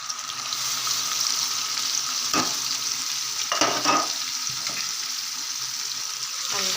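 Onion chili paste stirred and fried in a pan for a spinach curry, a continuous bright sizzle with several scraping strokes of a spoon through the thick mixture.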